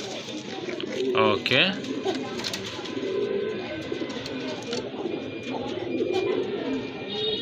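A pair of lively pigeons, with the male cooing in repeated soft, throaty calls. Someone talks over the birds throughout.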